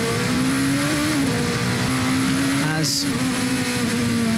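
A race car at the Nurburgring 6 Hours runs on the throttle but not fully flat out, its engine a steady droning tone with slight pitch shifts, loud and continuous under a commentator's talk.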